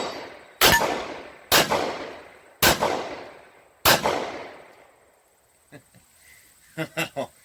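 A .45 ACP compact pistol fires four loud, close shots spaced about a second apart, each with a sharp crack and decaying echo, followed by fainter metallic clinks and clicks.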